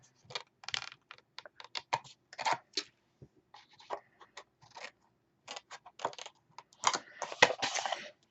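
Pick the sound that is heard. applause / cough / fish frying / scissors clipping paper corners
scissors clipping paper corners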